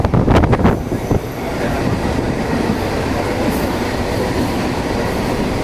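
A fast non-stop local train near Dharavi, Mumbai, speeds along the leftmost track with a loud, steady rumble, a few sharp clacks and squeals early on, then a continuous roar with no talk.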